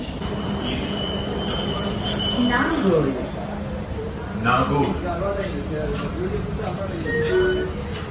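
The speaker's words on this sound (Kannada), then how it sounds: "ಫುಲ್ ಖಾಲಿ ಐತೆ ನೋಡಿದ್ರೆ ಮೆಟ್ರೋ ಈಗ" Rumbling hum of a Hyderabad Metro train in motion, with rising and falling whines of the motors and a person talking over it.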